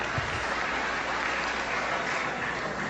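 An audience claps steadily at an evening speech event, giving a dense, even, slightly muffled wash of applause for about three seconds with no speech over it.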